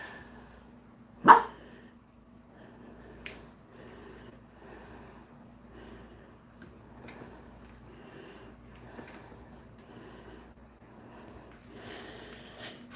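A single sharp, loud dog bark rings out early in an otherwise quiet indoor room, followed by faint rustles and small household noises.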